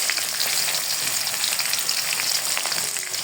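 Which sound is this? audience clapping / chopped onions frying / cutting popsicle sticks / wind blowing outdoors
chopped onions frying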